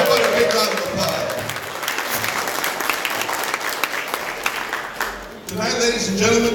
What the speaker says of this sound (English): So, yeah, how about a big round of applause?